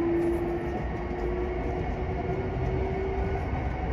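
A JR East 233 series local train running toward Nishi-Funabashi, a steady rumbling hum with a faint sustained tone, heard continuously from on board with no talking.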